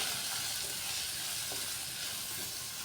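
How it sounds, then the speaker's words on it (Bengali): Potato, onion and tomato sauté with spices and salt in a pan, giving a steady, close hiss of frying that holds evenly throughout, with a faint stir or two and no voices. "আলু পেঁয়াজ টমেটো সব কিছু খুব ভালো করে কষিয়ে নিচ্ছি মশলার সাথে।"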